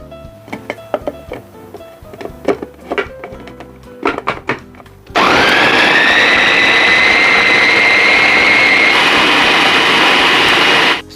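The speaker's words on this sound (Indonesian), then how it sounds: "Supaya blendernya ini bisa bekerja dengan ringan." A few clicks and clunks of a blender lid and jar give way to a loud, steady whirring roar as the blender grinds large red chillies with a little water into a spice paste for sayur lodeh.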